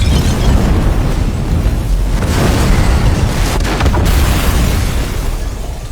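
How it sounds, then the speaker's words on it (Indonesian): A loud, rumbling explosion blasts apart a building's upper floor, with a deep, sustained roar that churns on for several seconds before slowly fading. "Semua terlambat. Ledakan terjadi."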